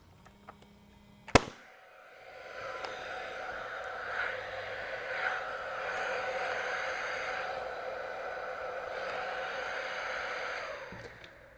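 A Paslode cordless framing nailer test-fires once after servicing, giving a sharp, loud bang followed by a long hissing, whirring rush of air that fades out near the end.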